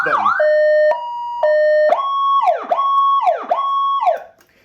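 A Powercall UDX7 emergency siren steps through its tones: a loud, steady alternating two-pitch pattern, then repeated rising-and-falling wail sweeps with no voices.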